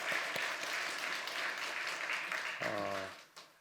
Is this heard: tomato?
no